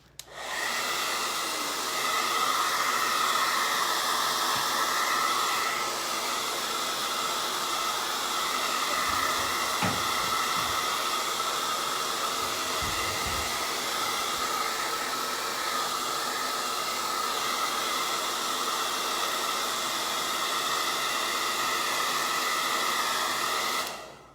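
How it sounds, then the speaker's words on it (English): A hair dryer blows steadily over wet blue acrylic paint on a door hanger, a loud continuous airy roar that runs without a break from start to finish. "I'm gonna dry this real quick because my blue is still pretty wet."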